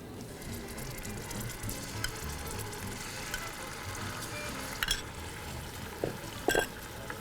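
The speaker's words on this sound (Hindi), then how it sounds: "अब मैं इसमें लहसुन और अदरक का पानी थोड़ा सा शामिल करूँगी" Garlic and ginger water hits mutton frying in a karahi, making a steady low sizzle with a few sharper splashes and spatters near the end. No one speaks.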